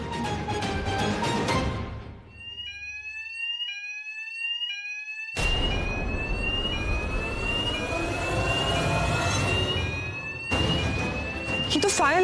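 Hotel fire alarm ringing loudly in repeated stepped electronic beeping tones over a roaring rumble, cutting in and out, with voices speaking around it.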